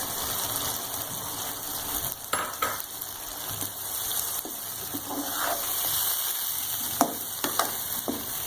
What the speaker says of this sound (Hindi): तो हम इसके साथ अच्छी तरह भून लेंगे।